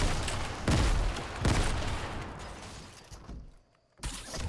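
Shotgun blasts in a Fortnite match, two loud booming shots a second apart followed by fading rumble and mechanical clatter, then a near silence and one more sharp hit at the end.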